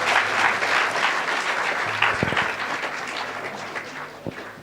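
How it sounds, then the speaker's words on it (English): Audience applause swells loudly at first and then gradually thins out, with a few distinct nearby claps and faint crowd murmur toward the end. "3 rounds of applause for this guy."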